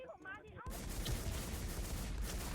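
Heavy gunfire from a powerful gun in a first-person shooter game, a dense continuous burst of shots that starts after a brief moment of speech and stays loud to the end.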